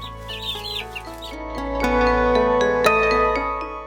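A cartoon rooster crows loudly in the morning, its long call rising and holding over a farmyard backdrop with clucking and chirping birds, no voices.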